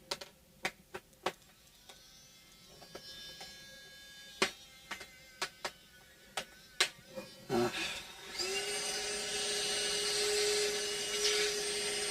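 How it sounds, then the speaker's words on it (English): A vacuum cleaner switches on after a series of sharp knocks and clicks, then settles into a steady, loud whine as it sucks up debris while cleaning out a Hondo. "So I'm going to vacuum out the debris."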